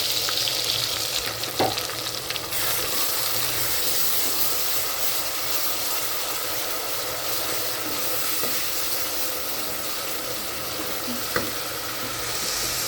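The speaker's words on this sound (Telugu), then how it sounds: "ముద్ద బాగా వేగాక ఎర్రగా వేగాలి." Onion paste made from three medium onions frying in a pan for goat head curry, a continuous close sizzle with occasional soft stirring knocks.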